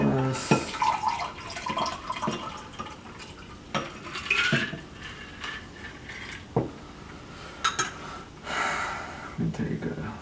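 An absinthe drink strained from a cocktail shaker into a glass, with pouring and dripping liquid, clinks of glassware and metal, and speech over parts of it.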